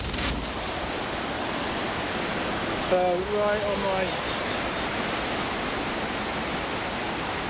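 A waterfall upstream in the Venezuelan jungle gives off a steady, broad roar of rushing water, and someone speaks briefly over it partway through.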